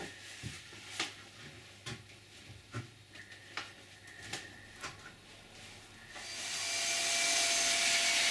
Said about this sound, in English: The edges are trimmed.